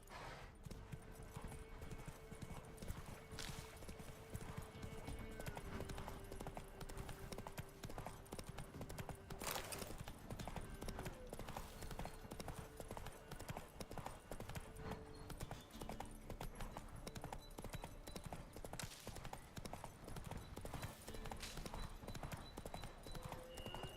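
Hooves of the horse Roach galloping in The Witcher 3 video game, a fast, steady clip-clop that runs throughout, close and loud, with brief snorts and faint game ambience behind it.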